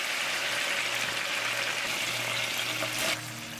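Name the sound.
pork frying in a pan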